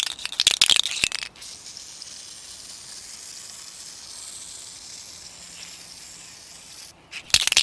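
Sputtering, crackly bursts of spray at the start and end around a thin, steady hiss from a nearly empty spray paint can with no gas left.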